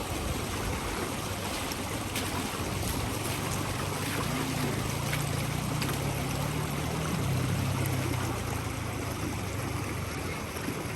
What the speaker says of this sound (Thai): น้ำไหลผ่านมาแล้วนะคะ ตอนนี้เนี่ยค่ะ ไหลเข้ามาแล้ว